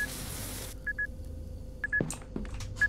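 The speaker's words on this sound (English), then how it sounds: "the beeping behind you" Short electronic beeps repeat in pairs at intervals behind a quiet forest campsite, with a brief burst of noise at the start and a few soft knocks in between.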